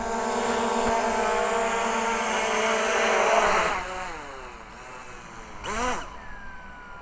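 A VEENIIX V11 drone lands, its propellers giving a loud, high, steady whine that drops and fades as the motors spool down, with a short final rise and fall at the end.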